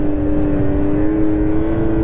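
A 2023 Ski-Doo Renegade X-RS 850 snowmobile rides through fresh deep snow on a trail, its engine holding a loud, steady droning whine close by without pause.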